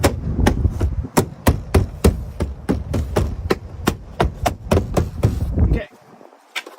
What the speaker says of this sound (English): Just give it a nice tap.